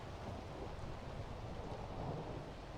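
Steady rain and thunder in the video game Skyrim, a dense, continuous wash of falling rain with a low rumbling underlayer, even in level throughout and no voices.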